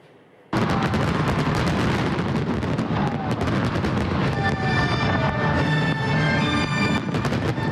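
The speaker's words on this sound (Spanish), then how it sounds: "Cientos de fuegos artificiales iluminaron el cielo en varias regiones en China anoche" Fireworks exploding during China's National Day celebrations, a loud, dense barrage of rapid cracks and booms that bursts in after a quiet start and continues without pause, with whistling trails rising through it.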